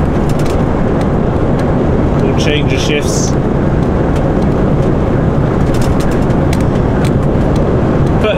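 Steady, loud road traffic rumbles past on a bridge around six on a Friday evening, a continuous roar with passing vehicles and someone talking over it.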